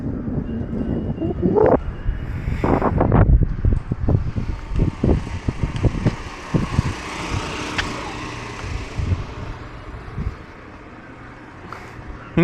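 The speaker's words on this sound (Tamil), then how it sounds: "அங்கே நின்னோன்னா வேறு லெவலில் காற்று இருக்குது" Strong wind gusts buffet the microphone at the seashore by the Bay of Bengal, rumbling and flapping unevenly before easing to a steadier rush.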